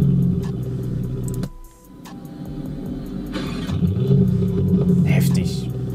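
A Lamborghini Urus fitted with a Novitec sport exhaust revs up loudly from close by. Its deep engine rumble dips briefly and then swells back, with people talking over it.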